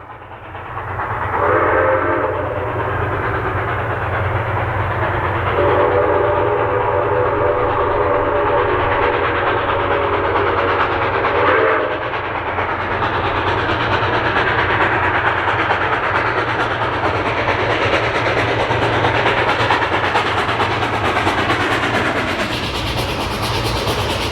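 Grand Canyon Railway steam locomotive No. 4960 rumbles past loudly with a steady mechanical roar, its steam whistle sounding two long blasts early on before the rolling noise continues.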